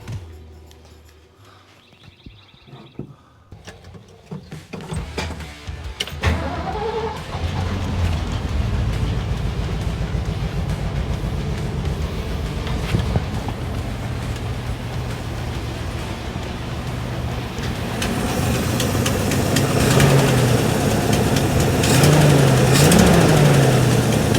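A 1969 Ford Bronco engine cranks and catches, then settles into a steady, rough idle that grows slightly louder and fuller as it keeps running, close by with no talking.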